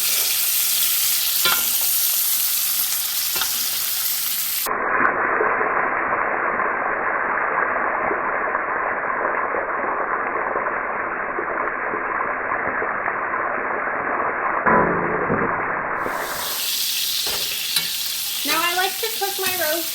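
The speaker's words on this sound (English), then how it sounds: "the butter and garlic over the top as it's cooking" Venison steak frying in a hot pan with butter and garlic spooned over the top, a loud steady sizzle that runs throughout with stirring, ending with a few clinks.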